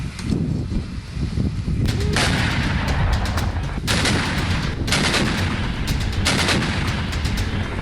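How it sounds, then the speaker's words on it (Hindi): Russian howitzers fire during the Ukraine conflict, with several sharp, loud blasts arriving a second or two apart over a constant rumbling, noisy background, each report leaving a ringing tail. "आग उगलते ये तोप के गोले यूक्रेन पर रूसी सेना की तबाही की गवाही दे रही है।"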